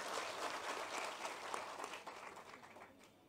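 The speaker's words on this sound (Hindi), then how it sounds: "शिवराज सिंह चौहान जी मैं चाहता हूं कि जोरदार तालियों से हम उनका स्वागत करें" Loud, sustained applause from a large crowd welcoming the chief minister at a political rally in Madhya Pradesh, holding steady before gradually easing off.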